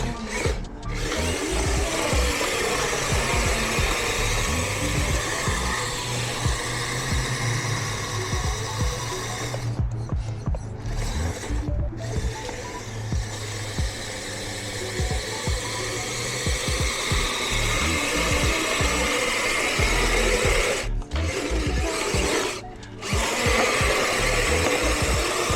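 A Kyosho Blizzard 2.0 RC snow vehicle plows a driveway, its small electric motor whining loudly and continuously with rough, grinding churn, cutting out briefly a few times.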